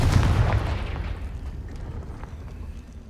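Hogwarts Legacy Confringo fire-blast spell, a deep booming explosion at the start whose rumble slowly fades over a few seconds, fairly close with no talking.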